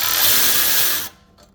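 A power tool removes a caliper bracket bolt on the front brakes of a 2017 Nissan 370Z sport package: a loud, steady whirring burst for about a second that cuts off abruptly, leaving a faint rattle.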